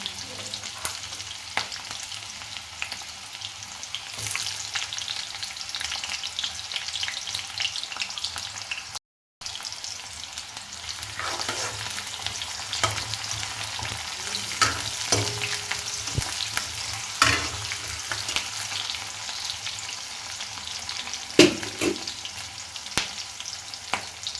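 Lentils are added to a hot frying pan and stirred while cooking dal with ripe red chillies, giving a steady close sizzle with occasional spoon scrapes and clinks throughout and no talking.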